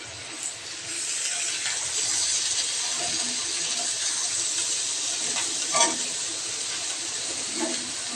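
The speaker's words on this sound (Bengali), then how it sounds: "পোয়া মাছটা ভেজে নিচ্ছি।" Poa fish frying in a pan on an electric stove gives a steady, close sizzle with scattered pops and crackles and no talk over it.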